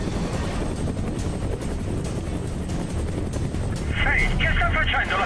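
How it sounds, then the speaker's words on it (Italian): Steady rotor thrum of a war helicopter in the video game Prototype 2, loud and close throughout, with a brighter rush of wind or engine noise swelling near the end. "Tu pilota l'elicottero."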